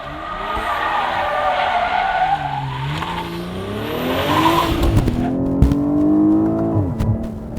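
A BMW 8 Series Gran Coupe in sport mode, a grand touring car, sends out a loud, close engine and exhaust note that rises and falls through repeated revs and gearshifts, with a tire squeal and no talking.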